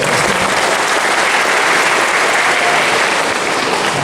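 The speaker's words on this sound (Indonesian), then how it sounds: "Mari kita tepuk untuk keluarga" Audience applause at an installation ceremony for a regional family association's board in Raja Ampat, a steady, dense wash of many hands clapping, loud and sustained throughout without pause.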